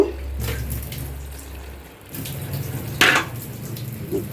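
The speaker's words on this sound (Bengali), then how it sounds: "এখন অল্প একটু পানি দিব" Water is poured into a cooking pan holding goat brains, a short gushing splash and sizzle followed by quieter bubbling and a second burst of hissing, with no talk.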